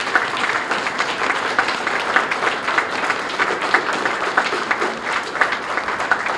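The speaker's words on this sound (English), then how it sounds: "give another round of applause to all the award recipients" Sustained applause from an audience at a ceremony honouring St. Paul police officers receiving life saving awards, steady dense clapping throughout at moderate loudness with a faint murmur of voices beneath.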